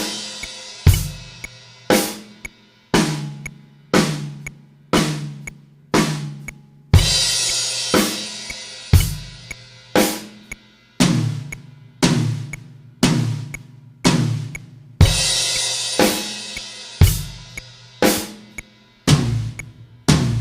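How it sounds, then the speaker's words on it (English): A steady rock drum beat with punchy kick and snare hits, broken by fills and bright crash cymbal splashes that ring out between repeating patterns. "Your drum beat, this drum fill, and that crash."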